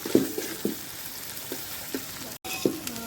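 Onion, chili and tomato stirred and roasted in oil over a wood-fired chulha for Nilanga rice, with a steady soft sizzle and a few sharp spoon scrapes against the pan.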